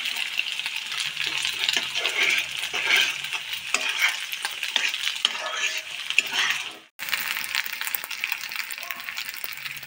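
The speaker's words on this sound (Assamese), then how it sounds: "এয়া চাওকচোন কি ধুনীয়াকৈ উতল আহিছে" Assamese fish curry with dheki fern bubbling in an uncovered pot, a steady broadband simmering hiss with faint clinks of utensils, briefly cutting out near the end before resuming.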